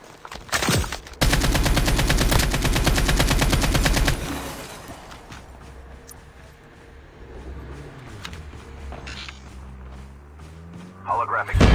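A Fennec submachine gun in a battle royale shooter fires one long, extremely rapid, continuous burst lasting about three seconds. Softer rustling, footsteps and voices follow, with a faint voice heard under the action.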